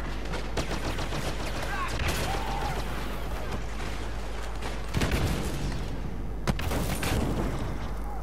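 A gun turret in the Star Wars Battlefront video game fires dense, rapid volleys of shots, a continuous crackling barrage with a few sharper bangs standing out near the end.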